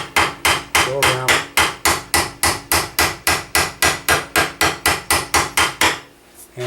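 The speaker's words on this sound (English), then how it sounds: "Hammer it tight to the wood." A hammer taps a metal fitting down tight against the wooden stock of a gun in a gunsmith's shop, delivering about twenty quick, evenly spaced, ringing blows close up, then stopping.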